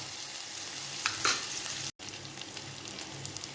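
Shallots and curry leaves fry in a pan for chicken curry, giving a close, steady crackling sizzle with a few stirring scrapes and a momentary dropout near the middle.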